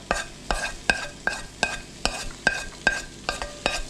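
Diced raw potatoes being stirred in a frying pan, with about ten regular scraping strokes of a utensil over a steady background sizzle, close and moderately loud, no voices.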